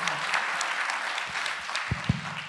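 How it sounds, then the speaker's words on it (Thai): An audience at a seminar on Thailand 4.0 and new industries claps to welcome a speaker, a dense, continuous burst of applause with a few sharper claps near the end. "ขอเรียนเชิญแล้วก็ขอเสียงปรบมือต้อนรับดร. เอกอนงค์ค่ะ"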